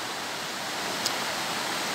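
Rushing water from a river and waterfall at Dao Falls on Samal Island forms a steady broadband roar, continuous and fairly loud.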